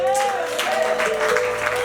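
A church congregation breaks into continuous applause and crowd noise under a sustained voice calling out, dense clapping filling the short stretch without pause.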